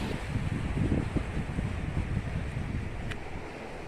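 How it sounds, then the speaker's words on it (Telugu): Water enters Totapalli Reservoir in Andhra Pradesh from below, a broad rushing wash mixed with gusty wind buffeting the microphone, fairly faint and continuous, without speech. "ఇందులోంచి కింద నుంచి వాటర్ ఎంటర్ అవుతుంది అనమాట"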